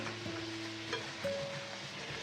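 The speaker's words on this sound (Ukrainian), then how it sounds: "Перемішуємо цибулю, щоб не згоріла." Onions fry softly in a pan with a low, even sizzle, and a few quiet stirring scrapes and clinks sound close by.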